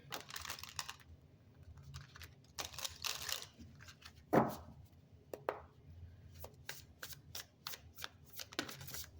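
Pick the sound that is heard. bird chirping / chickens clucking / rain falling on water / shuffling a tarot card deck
shuffling a tarot card deck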